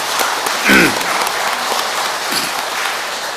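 A congregation applauds a prize winner at a religious award ceremony, with dense, even clapping filling the hall for several seconds and a brief vocal exclamation near the start.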